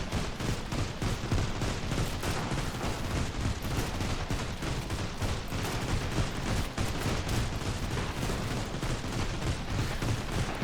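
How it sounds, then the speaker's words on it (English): Turrets firing at enemies in the survival video game Sunkenland, a dense, continuous barrage of loud gunfire bursts with no pauses, rapid overlapping shots filling the whole stretch. "you hear the turrets going off"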